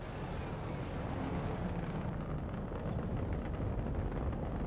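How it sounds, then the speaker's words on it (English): Point defense turrets firing at incoming size 9 torpedoes and bombs aboard a Polaris ship in Star Citizen, heard as a steady, rumbling roar of continuous fire with no clear gaps throughout. "Point defense is shooting."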